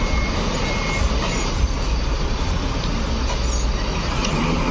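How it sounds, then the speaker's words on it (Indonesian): A Transport Express Puncak Kiambang bus pulls out of the KPR bus terminal with a loud, continuous engine rumble and a busy hum around it, with no clear voices. "diberangkatkan 1 unit Transport Express Puncak Kiambang"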